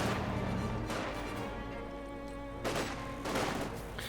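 Gunfire crackles through a Company of Heroes 2 battle, with scattered shots under a steady low rumble and two louder bursts of volleys near the end.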